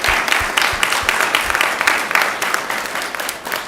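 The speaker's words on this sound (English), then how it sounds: "we will give her a round of applause" An evening school committee meeting audience applauds an absent honoree, a dense, steady wash of many hands clapping that sustains evenly throughout with no talk.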